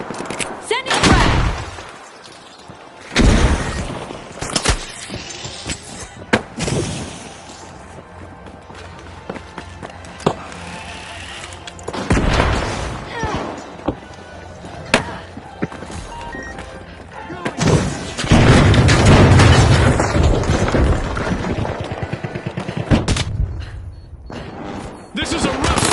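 Video game combat with a frag grenade blast and bursts of gunfire, several loud booms and crackling volleys scattered among quieter stretches, under frequent talking.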